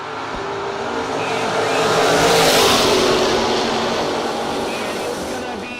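Oldsmobile race cars, among them car 593, roar past in a pack, swelling to a loud peak mid-way and fading, with a commentator talking over the engines.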